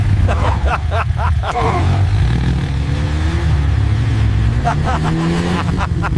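A motorbike engine revs and roars up close, with a loud, continuous low drone that rises and falls while people talk over it.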